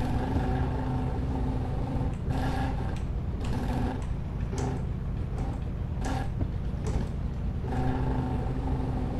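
Bullet motorcycle engine in a video game, idling loud and close: a rough, rapid thumping putter held steady throughout, with periodic louder surges.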